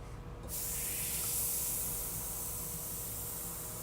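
An airbrush driven by an air compressor sprays paint onto a poster, a steady close hiss that starts after a brief quiet moment and continues evenly.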